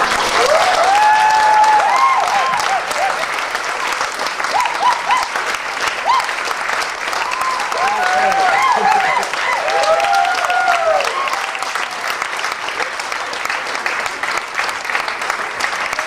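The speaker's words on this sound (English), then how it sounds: "Give Ed another round of applause." Audience applause for Ed Lowe after his talk: dense, sustained clapping from a full room filling the whole stretch at a steady loud level, with a few faint voices and cheers underneath.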